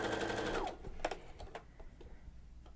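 A sewing machine with a binder foot stitches thicker twill tape, running as a steady close whirring burst for under a second, then giving way to a few quiet mechanical clicks and handling sounds.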